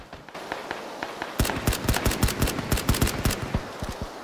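Rapid gunfire from PUBG, sparse at first, then dense bursts of loud, sharp shots in quick succession for the remaining seconds, with no voices.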